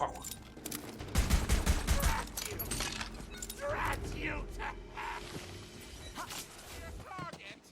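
Gunfire from a new gun in the fantasy shooter game Tiny Tina's Wonderlands, a burst of rapid shots early on followed by scattered game effects, with a person talking throughout.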